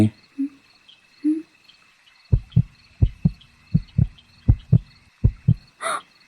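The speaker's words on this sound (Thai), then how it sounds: "หัวใจเขาเต้นแรงมากเลย แรงกว่าฉันด้วยซ้ำ" A heartbeat effect from a Sims 4 romance story plays as a steady run of paired lub-dub thumps, deep and close, repeating about every half second over near silence after a few faint opening sounds.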